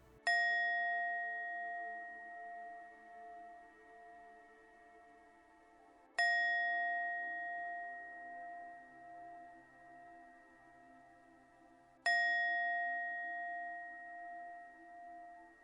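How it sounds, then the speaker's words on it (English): Three resonant chimes ring out one at a time, about six seconds apart, each struck sharply and left to decay slowly into quiet, used to clear a space before an energy reading. "You'll hear 3 chimes starting now."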